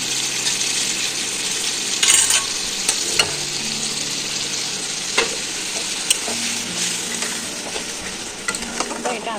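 Pointed gourd being fried and stirred in spice paste with beaten curd in a pan, a steady close sizzle broken by the clink and scrape of a spatula, with no talking.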